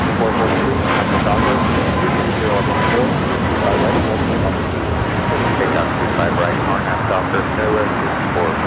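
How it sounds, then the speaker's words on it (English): A British Airways airliner taxis at LAX airport, its jet engines giving a loud, steady roar that stays near and constant from start to finish. "Looks like British Airways heading to the southeast corner of Tom Bradley."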